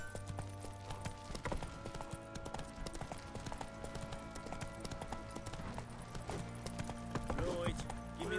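A horse's hooves clip-clop in The Witcher 3 video game, a steady close rhythmic trot under game music and a brief spoken line.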